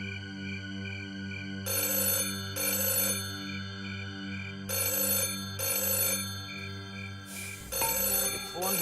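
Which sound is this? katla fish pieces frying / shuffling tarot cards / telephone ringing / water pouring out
telephone ringing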